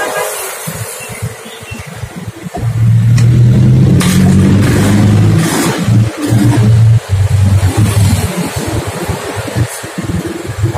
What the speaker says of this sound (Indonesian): kita coba dulu kita hidupin motornya ya